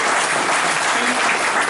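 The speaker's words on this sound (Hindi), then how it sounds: "तो नगर निगम की टीम के लिए जोरदार एक बार ताली बजाइए।" An audience claps loudly and continuously for the municipal corporation team at a cycling event in Korba, with a dense, even wash of applause and no speech over it.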